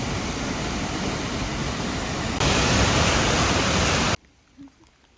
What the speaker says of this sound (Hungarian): Bizony ott ömlik a víz lefele.